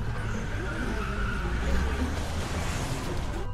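A truck pulls away in The Walking Dead video game, a steady engine rumble with road and tyre noise running continuously under faint background sound.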